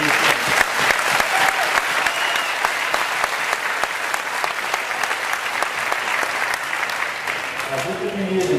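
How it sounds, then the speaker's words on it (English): An audience at a scholarship event breaks into steady, fairly loud applause, a dense patter of hand claps sustained for several seconds, with some talk mixed in underneath. "give yourself a round of applause for everything that you're doing"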